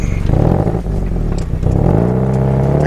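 A car accelerates hard on a test drive, its engine revving up loudly and climbing in pitch, with a brief dip before surging again, close and unbroken.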